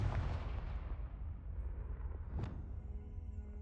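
A Confringo spell blast from the Hogwarts Legacy video game: one booming burst that rumbles and decays over a few seconds, with a sharp secondary crack partway through, set against a dense low game background.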